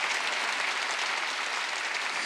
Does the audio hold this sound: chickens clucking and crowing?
no